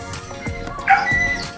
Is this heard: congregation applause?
no